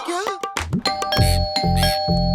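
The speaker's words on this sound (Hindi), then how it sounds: "कोई घंटी बजा रहा है और तुम दरवाजा नहीं खोल रहे हो?" A door chime sounds in a home, ringing as a tonal ding-dong with sustained harmonic tones and a few repeated strikes, while a voice is heard at the start.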